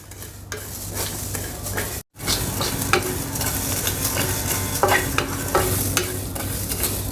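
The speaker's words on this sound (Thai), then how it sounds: "ใส่เม็ดผักชี ใส่ยี่หร่า ไฟเนี่ยใช้ไฟอ่อนนะครับ จากนั้นก็คั่ว" Coriander seeds and cumin dry-roasting in a pan over low heat, a steady dry rustling sizzle with scraping stirs and occasional clinks, continuous and close, with a brief dropout partway through.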